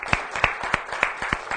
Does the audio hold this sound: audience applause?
yes